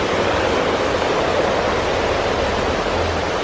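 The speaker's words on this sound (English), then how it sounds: "I hear water, so we're gonna go towards the water." Steady rushing water in a garden setting, a constant broadband wash like a nearby fountain or cascade, loud and unbroken throughout with no voices.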